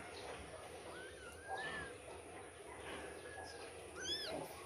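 Thin, high-pitched meows from small kittens, several faint cries scattered over a low background murmur.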